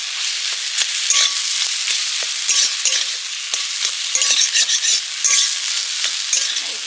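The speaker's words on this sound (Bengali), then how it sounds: "এবার দিচ্ছি কয়েকটা কাঁচা লঙ্কা কুচি সুন্দর একটা কাঁচা লঙ্কার ফ্লেভার আসবে আলুর ভর্তাটা" Mashed potato with chopped green chillies is stir-fried in a wok, a steady close sizzle broken by repeated scraping strokes of the spatula against the pan, with no talking.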